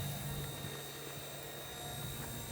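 A small XK K124 EC145 RC helicopter flies outdoors in light wind, its steady rotor hum and whine droning continuously and fairly faint throughout.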